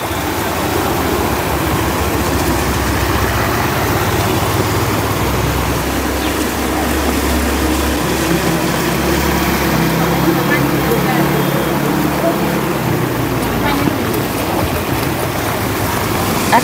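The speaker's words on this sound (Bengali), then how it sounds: "একটা টুকটুক যাওয়ার পর একদম জলটা যেন আরো বেরিয়ে আসে।" Tuk-tuk moving through a flooded street after light rain, a steady wash of churning water and low engine rumble that holds continuously, loud and close, with the engine note fading out near the end.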